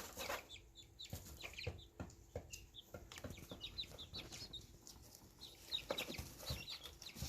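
Chickens cluck and squawk in bursts at close range over a busy farmyard background, with scattered wing flaps and scratching between calls.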